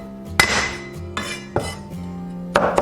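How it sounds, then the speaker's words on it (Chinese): Garlic cloves are smashed flat with the side of a knife on a cutting board, four or five sharp hard thumps spaced about a second apart with ringing knock tails, close and loud, with no talking. "准备几个大蒜，先拍碎"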